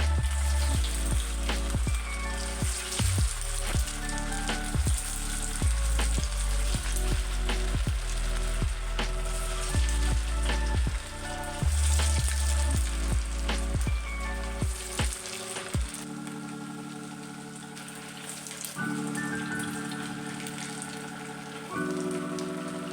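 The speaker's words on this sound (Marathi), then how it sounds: "तर आता आपण हे कटलेट याच्यामध्ये एक एक टाकून घेऊया आणि तळून घेऊया" Sabudana cutlets bubble in hot oil in a kadhai, a dense, rain-like crackling sizzle punctuated by frequent sharp taps, thinning and quieting over the last several seconds, with no speech.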